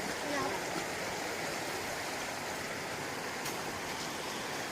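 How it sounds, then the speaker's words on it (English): Rapids on a creek along a nature trail, a steady broadband rush of flowing water that holds at a constant level throughout, with a faint voice briefly near the start. "Some decent little rapids."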